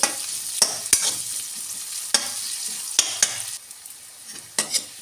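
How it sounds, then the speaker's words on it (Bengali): Onions and potatoes frying and stirred in a pan, a steady oily sizzle broken by sharp clacks of a spatula scraping and tapping, close up with no speech. "পেঁয়াজটা একটু ভেজে নিয়ে এর সঙ্গে আলুটাও ভেজে নেব"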